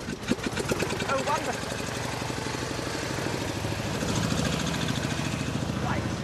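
A vintage car engine starts and settles into a steady, rhythmic idle, its even chugging pulses close and continuous throughout.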